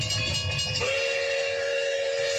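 In a train conductor simulator video game, a rolling train rumble runs under a sustained whistle that sounds out clearly and holds steady to the end, loud and close with no talk.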